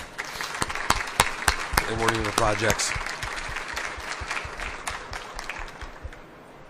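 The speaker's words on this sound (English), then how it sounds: "I just want to acknowledge maybe another round of applause for the 7 First Nations" Applause from an audience at a federal government announcement on mining support for First Nations communities, sharp claps rising over a steady wash of clapping while a speaker talks through it.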